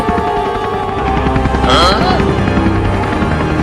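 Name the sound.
helicopter lifting off, cartoon sound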